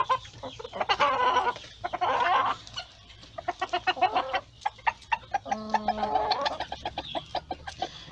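Ornamental hens and a rooster cluck in a pen, with rapid bursts of close, loud clucking and squawking, a short pause, then more rhythmic clucks and a drawn call.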